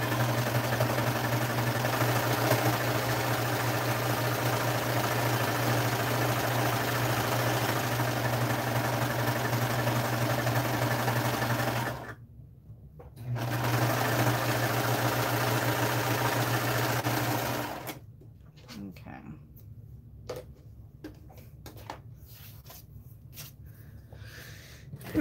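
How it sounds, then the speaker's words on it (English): A serger overlock sewing machine runs with a steady mechanical hum for about twelve seconds, stops briefly, runs again, then falls quiet apart from faint handling clicks. "we're done with the serger for now"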